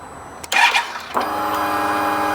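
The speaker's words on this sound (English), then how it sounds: "Now I've got to crank it over." An Indian Scout motorcycle with a weak battery is cranked: a brief starter burst and clatter, then a steady electrical whine and hum that carries on without the engine catching.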